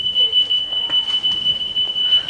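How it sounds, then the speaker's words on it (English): A shop's security alarm sounds a steady, piercing high tone, continuous and fairly loud throughout with faint background noise and no voices. "It's all very well your alarm going off now."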